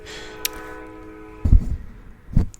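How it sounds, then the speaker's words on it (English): A train passes outside a room, heard as a faint sustained horn tone that fades out, followed by a couple of close low thumps and rumbles. "Hello, train outside."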